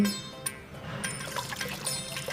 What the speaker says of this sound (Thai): ได้ยินเสียงน้ำไหล อยู่ใต้แผ่นหิน